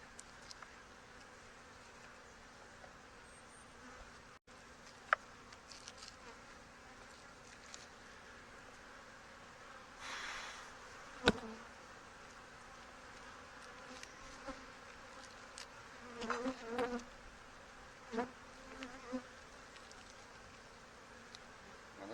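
Honey bees from Hive 2 drone steadily at low volume in an opened hive during a beekeeper's inspection, with faint handling knocks and a few louder bursts of buzzing partway through.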